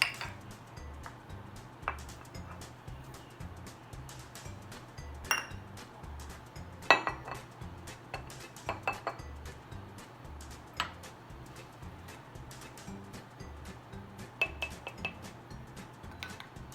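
Ingredients are added to a mug and stirred for a microwave recipe, giving soft scattered clinks and taps of utensil on ceramic, quiet and close, with irregular sharper knocks.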